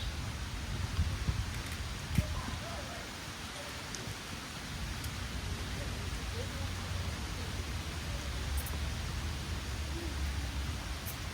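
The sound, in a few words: rain falling outdoors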